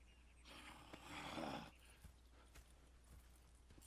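Horse hooves on the ground in the Red Dead Redemption 2 video game, a soft brief burst of clopping under a faint low hum, followed by quieter scattered thuds.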